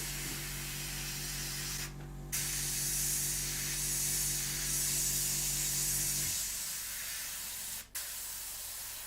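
Paint sprays onto an Italeri 1/48 Seahawk model kit in a steady, close hiss that stops briefly twice, with a low mechanical hum running under the first part.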